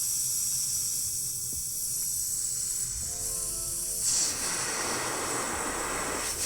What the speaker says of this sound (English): Something is clogging my airbrush. Well, no, it's working.